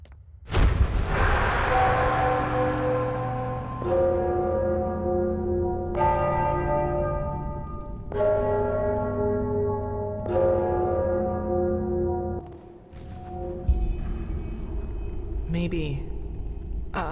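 Church bells in the fantasy game Enderal ringing in slow succession, each loud resonant strike about every two seconds with long humming decay, with a voice speaking over the tolling.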